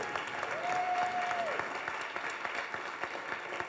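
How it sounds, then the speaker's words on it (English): Audience at a real estate masterclass panel session applauds its panelists and guest speakers, a full, continuous clapping crowd with a brief tonal whistle or feedback note partway through. "let's give one more giant round of applause for our panelists and our guest speakers."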